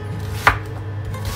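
Two sharp knife chops through sweet potato on a cutting board, cutting it into square pieces, spaced about a second apart against a quiet kitchen background.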